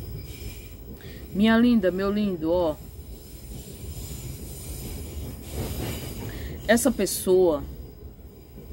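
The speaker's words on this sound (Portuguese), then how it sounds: "então vocês estão ouvindo o trem passar" A train rolls along a railway line running right beside a home, a steady broad rumble lasting throughout while someone talks over it in the foreground.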